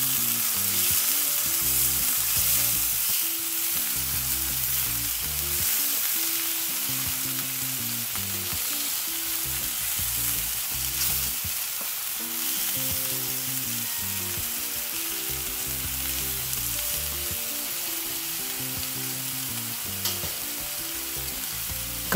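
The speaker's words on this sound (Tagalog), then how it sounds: "ang apoy natin ay nasa high setting para mag golden brown kaagad ang ating chicken" Chicken sizzling loudly in a pan over high heat, a continuous dense frying crackle throughout with occasional stirring.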